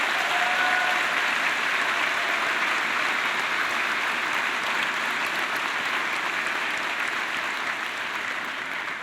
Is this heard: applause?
yes